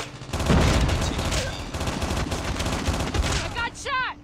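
Rapid gunfire bursts from Call of Duty Mobile during a ranked multiplayer match, dense repeated shots running nearly throughout, with a brief shout near the end.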